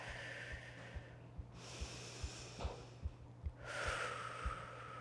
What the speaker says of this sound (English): Just start to elongate your exhales.